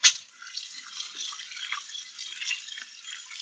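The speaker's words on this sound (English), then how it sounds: "I'm going to just wash my hands to get all this gunk off." Tap water running at a sink while hands are washed, a steady thin splashing stream with light irregular spatters, close and moderately quiet throughout.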